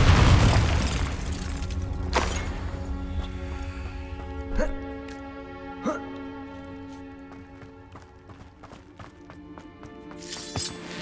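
The Confringo fire spell in Hogwarts Legacy erupts in a deep, loud boom at the start. Ringing magical chimes and sharp pings follow and fade through the rest of the scene.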